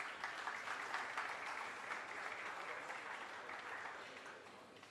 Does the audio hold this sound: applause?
yes